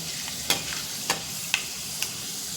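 Fenugreek seeds fry in oil for a tempering, a light steady sizzle with four crisp, evenly spaced scrapes of a stirring spoon against the pan, close and without talk.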